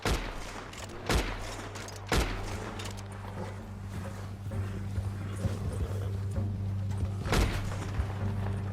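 Gunfire in the Western game Red Dead Redemption 2 during a story mission: a few separate sharp shots ring out, spaced a second or more apart, over trotting horse hooves and low rumbling ambience.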